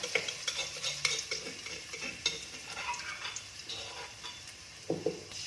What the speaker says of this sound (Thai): เอาไปผัดก่อนค่ะ ผัดให้หอมหอม